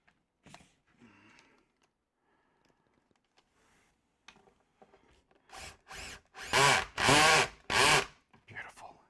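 A power drill drives a screw into wood on a woodworking bench, sounding as several short whirring bursts that grow louder toward the end after a quiet stretch of faint handling noises.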